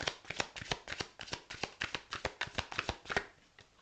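Oracle cards being shuffled by hand, a steady run of quick riffling bursts at close range with no talk over them.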